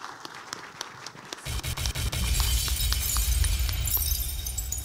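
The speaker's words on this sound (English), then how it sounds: "I wish that we clap again for our Chief Guest for that wonderful speech" A graduation audience applauds the chief guest, the clapping swelling from scattered claps into loud, sustained applause from a large crowd.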